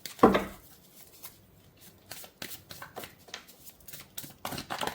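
Tarot cards are shuffled and handled up close, a loud initial riffle followed by soft repeated flicks and slides of cards in a quiet room.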